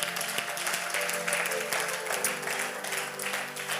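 A church congregation applauding the Lord together, sustained dense clapping filling the room without pause, with some voices mixed into the steady applause.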